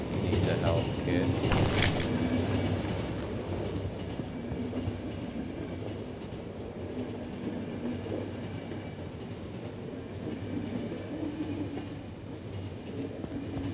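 A train rolling along in the video game The Final Station, a continuous rumbling run with rhythmic clickety-clack and a brief bright squeal near the start, steady and fairly close throughout.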